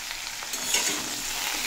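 Raw banana frying in oil with salt, turmeric, tomato and slit green chillies, a steady close sizzle with soft crackles and stirring scrapes throughout.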